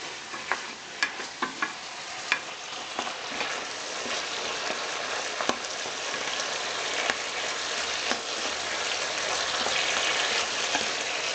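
Pork frying and sizzling in a pan for pinakbet, a steady dense crackle with occasional sharp pops and clinks as it is stirred, close and continuous with no talking.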